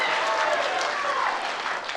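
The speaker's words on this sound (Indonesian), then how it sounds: "Boleh tepuk tangannya, kasih semangatnya kepada seluruh pasangan calon hadirin sekalian." Audience applause at an Indonesian gubernatorial (Pilkada) election debate: sustained dense clapping from a hall crowd, steady and fairly loud throughout, with some voices mixed in.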